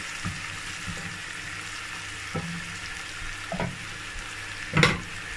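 Stockfish stew is stirred in a pot with a soft, continuous bubbling simmer, broken by a few distinct spoon knocks and scrapes, the loudest near the end. Nobody speaks.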